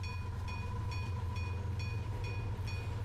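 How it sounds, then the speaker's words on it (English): A train rolling past in a video game, a steady heavy low rumble with regular metallic clacks about every half second, loud and continuous with no voices. "normally only 2 trains are supposed to pass through here"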